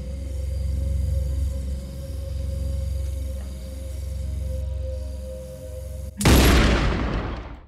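A single sudden loud gunshot-like boom bursts out late, cutting through a steady low droning hum of a dramatic series finale scene, then rings and decays briefly.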